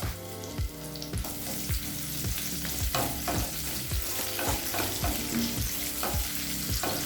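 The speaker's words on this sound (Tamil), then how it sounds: "நீளமாக நறுக்குன ஒரு வெங்காயம் சேர்த்துக்கலாம்." Sliced onion fries in hot oil with cinnamon stick, fennel seeds and curry leaves, a loud steady sizzle broken by regular scraping strokes of a spoon stirring the pan, close up.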